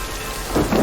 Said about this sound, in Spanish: Yo creo que es la primera vez que tengo tormenta.